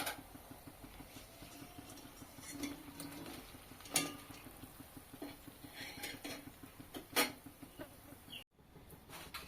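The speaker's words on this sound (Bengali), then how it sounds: "এবার সবগুলোকে একটা ছাঁকনি দিয়ে তুলে নেব।" Fried lobongo latika, a Bengali clove-sealed sweet, lifted from a kadai with a metal strainer, giving scattered clinks and scrapes of the strainer against the pan over a low, steady background.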